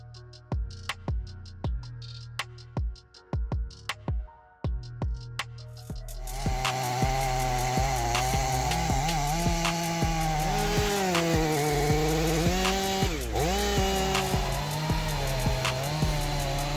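A big chainsaw cuts through a tree. Several sharp knocks and clicks come first, then the saw settles into a loud, steady engine roar with slight pitch shifts as it bites into the wood.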